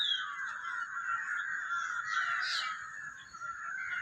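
Crows caw outdoors, a faint, somewhat distant chorus of hoarse overlapping calls that drone on steadily over a quiet background, with no voices.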